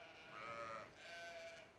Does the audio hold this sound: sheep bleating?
yes